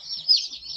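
A Hampshire Red or Rhode Island Red chick chirps in a hatchery shipping box, a thin, high, continuous peeping that swells briefly in the middle, close and fairly clear.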